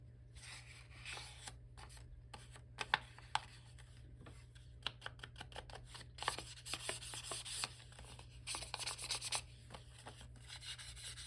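A book page is folded in half and creased by hand, giving close, quiet paper rubbing and scraping in irregular strokes, with a few faster bursts of sliding friction against a steady low hum.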